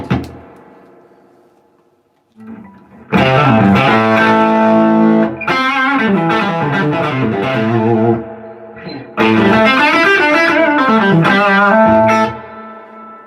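An electric guitar in the style of a '59 Les Paul plays through loud distortion. Sustained, ringing chords and melodic note runs come in close, strong phrases separated by brief pauses, with no voices.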